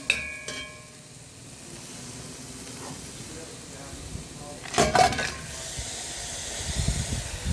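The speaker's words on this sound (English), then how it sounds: "the water has dried off completely and I'm hearing that sizzling song" Curry sizzling in a pot once the water has cooked off, ready for goat meat: a soft, steady hiss runs throughout, with a brief louder burst of sizzle midway as the pan crackles up.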